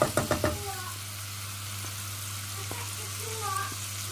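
Butter melts in a pan, giving a soft, steady sizzle after a few quick knocks at the start, with a constant low hum beneath.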